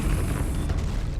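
A short, heavy whooshing boom as the Depulso spell is cast in Hogwarts Legacy, a dense low burst that fades quickly.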